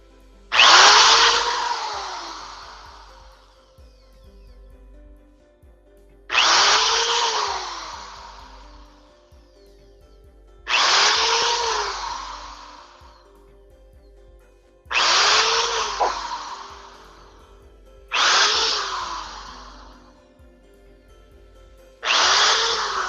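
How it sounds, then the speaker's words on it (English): A power drill whines up in five separate bursts, each a few seconds long with pauses between, biting into wood up close and loud. "Drill noise too loud?"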